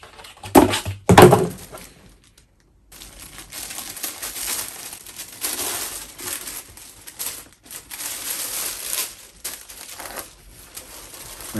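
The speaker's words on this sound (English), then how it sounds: "The best part of opening a box is unwrapping." Paper and packaging crinkling and rustling as a box is unwrapped, with sharp thumps early, then a pause and sustained, uneven rustling up close.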